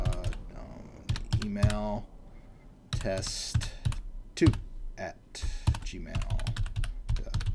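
Typing on a computer keyboard while setting up a Coinbase account, with clicks coming in bursts mixed with someone talking over them.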